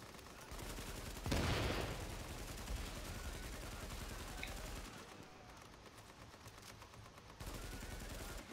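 A large emplaced machine gun in The Division fires in sustained bursts with a loud, dense rattle, pausing briefly midway before the gunfire resumes near the end.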